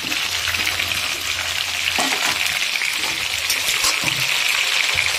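Eggplant pieces tossed into a hot pan of oil for a vegetarian moringa flower dish, giving a steady close sizzle with a sharp burst as they land and some scraping stirs.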